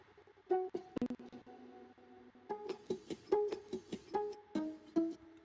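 Synth track pitched down with drive through the Little Alter Boy plugin, a short burst of notes, a pause, then a run of punchy plucked tones with distorted edges, fairly quiet with no voices.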